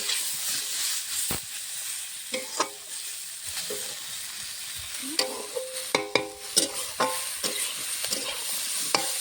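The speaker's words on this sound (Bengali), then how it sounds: "সবজিটা আর কিছুক্ষণ ভেজে নেবো।" Mixed vegetables sizzle and hiss in a hot pan while a utensil repeatedly scrapes and stirs, producing irregular clattering knocks over the steady frying.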